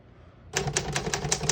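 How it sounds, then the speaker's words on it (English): A 1952 Royal HHE desktop typewriter typing in a quick run of sharp, close key strikes after a brief quiet start, with a small bell-like ding near the end. "We're gonna keep it on single for now and finish typing."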